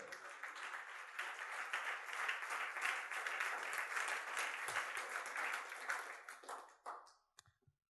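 A church congregation applauding, dense sustained clapping that holds steady for several seconds, then thins and fades to a few last claps.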